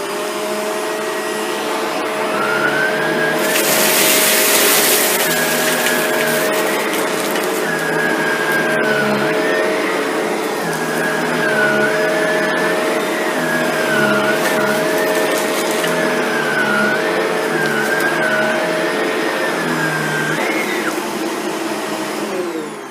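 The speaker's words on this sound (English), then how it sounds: "The vacuum was set on low pile." A Shark Rotator NV752 vacuum cleaner runs on low-pile carpet picking up seeds and lentils, a loud, steady motor whine with wavering pitch and a brief rattling burst early on, continuing alone throughout.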